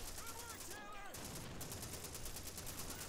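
Machine gun fire in Call of Duty 2, a World War II D-Day battle, rattles in dense, steady bursts across the whole stretch, with busy combat noise around it and some shouted voices mixed in.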